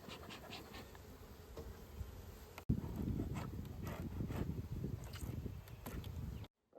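Honeybees buzzing close around an open hive during a spring inspection, a dense continuous hum that swells louder midway and cuts off abruptly at the end.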